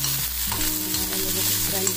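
Chopped capsicum and coriander stems sauté in a hot pan, a loud, steady close sizzle with stirring scrapes running through.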